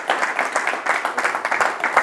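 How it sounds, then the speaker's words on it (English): Brief, fairly close audience applause after a talk on Vasiṣṭha's stories, steady clapping with uneven individual claps throughout. "Can we have another round of applause?"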